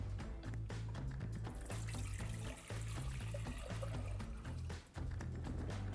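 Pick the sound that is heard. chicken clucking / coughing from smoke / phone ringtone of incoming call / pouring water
pouring water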